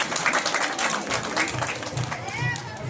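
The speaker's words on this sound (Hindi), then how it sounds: "जोरदार ताली बजाएं आप लोग।" An audience at an Ambedkar Jayanti ceremony claps in dense, sustained applause, with a voice speaking over the clapping.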